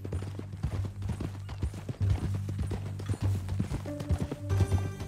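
Horse hooves clip-clop at a steady walking pace in Red Dead Redemption 2, close and rhythmic over a low ambient hum, with a soft musical tone entering near the end.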